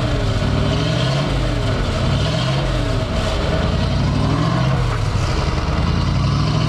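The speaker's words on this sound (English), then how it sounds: "Okay, go ahead, rev it up." A Ford 429 V8 truck engine roars loudly and continuously, its deep rumble rising and falling as it is revved, close and unbroken throughout.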